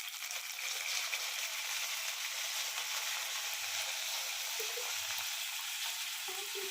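Whole spices such as shahi jeera, bay leaf, cloves and cinnamon frying in hot oil for a green chilli chicken, a steady close crackling sizzle throughout with faint occasional clinks.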